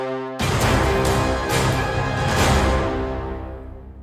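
Low epic brass horns enter abruptly after a brief moment of quiet and sustain a dense, resonant chord with gentle swells. The massive, stylised sound rings out at the close of a cue and gradually fades.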